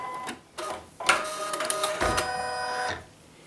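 A domestic sewing machine stitching through fabric and batting for a flower mug rug, short bursts of whirring motor and needle chatter starting and stopping, then a longer continuous run, close up with no talk.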